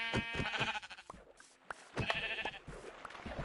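Sheep in the Minecraft video game bleat several times in quick succession, nasal wavering calls over a few seconds, moderately quiet and with no voice over them.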